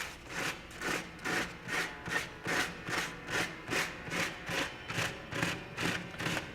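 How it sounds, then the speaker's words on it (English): Sandpaper works a wooden piano bridge down to expose its pin holes, rubbing in even back-and-forth strokes about once a second, close and fairly loud, with nobody talking. "And I'm gonna sand it away as well."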